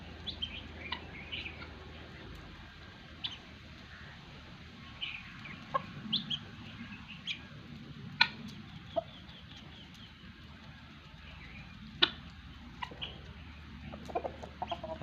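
Guinea fowl calling outdoors among village chickens: sharp, intermittent clucking cries, fairly faint and spread across a steady rural background, with no one speaking.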